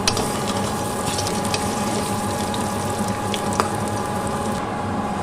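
Large pieces of cauliflower frying in a pan give a continuous, dense sizzle with faint stirring scrapes, close and steady with no voices.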